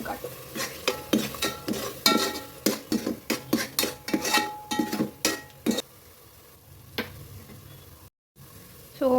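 A metal spoon clatters and scrapes repeatedly in a pan as masala fries in hot oil for mutton paya soup, about a dozen close, sharp knocks in a quick run, then a quieter faint sizzle.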